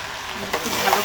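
Moong dal and raisins frying in oil for mung dal pulao: a short, close sizzle with a brief scrape of stirring in the pan.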